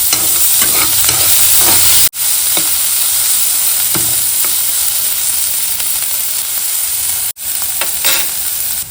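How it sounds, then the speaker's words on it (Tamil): Finely chopped onions sizzle hard in a pan while being stirred, a loud continuous fry broken by a couple of brief silent gaps and scraping stirs, with no talking. "வெங்காயம் நல்லா வதங்கிடுச்சுங்க"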